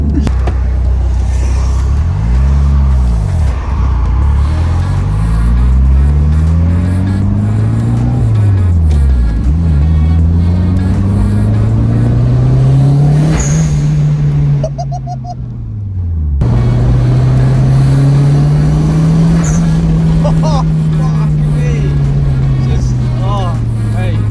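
A Ford Puma engine revs up and falls back repeatedly, loud and close, with a brief fluttering drop as the gear changes midway.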